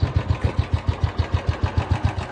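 A motorcycle engine fitted with its original silencer idles close by, giving a steady, even thumping pulse at a rapid, regular beat.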